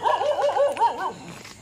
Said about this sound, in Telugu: కుక్కలు చూసారా ఎలా అరుస్తున్నాయి?